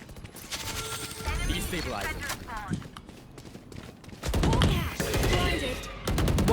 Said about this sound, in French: je me prends plein de balles